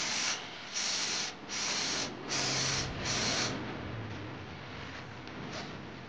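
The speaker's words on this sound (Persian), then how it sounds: "بعد تو فاصله 15 تا 20 سانتی اسپری میکنیم" A can of fluorescent light-up spray paint hisses in several short bursts, each a close, steady spray separated by brief gaps, followed by a quieter lingering hiss.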